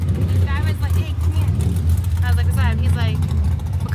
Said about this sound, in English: Yeah, twin turbo, man. It's got that different sound.